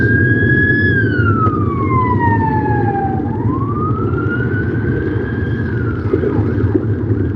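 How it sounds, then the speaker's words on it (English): A loud siren wails continuously on a Dublin street, its pitch sweeping down and then rising again over a steady engine rumble, close by. "Yeah, we hear sirens."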